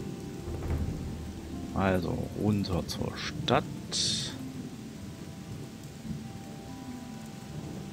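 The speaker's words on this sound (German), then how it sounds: "Oh, dieser Regen macht wirklich..." Steady rain hisses under a low rumble of thunder in the video game Odyssee – Im Auftrag des Königs, while someone speaks briefly over the storm.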